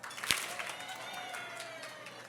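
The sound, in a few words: audience applause for John McDonnell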